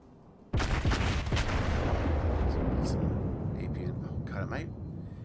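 Heavy naval gun salvos boom out in a warship battle game, a sudden loud blast followed by sustained rumbling fire and further booms, with players talking over it.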